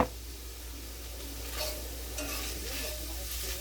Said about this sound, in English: Mix this up really good.